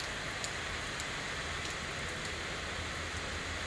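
Steady rain falls around a rural Thai home, a soft, even hiss with faint scattered drops that carries on without a break at low level.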